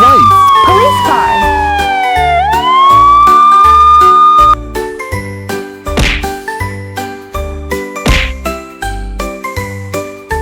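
A toy police car siren wails in a rising and falling electronic sweep for the first few seconds, then gives way to a bright jingly tune with repeated tinkling dings and thumping beats.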